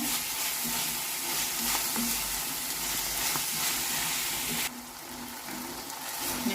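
Fenugreek leaf curry with turmeric and salt sizzling loudly in a pan while being stirred, a continuous close frying hiss with scraping that drops slightly in level near the end, no talking.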